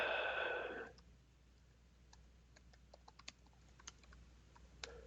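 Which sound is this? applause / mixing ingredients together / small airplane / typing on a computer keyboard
typing on a computer keyboard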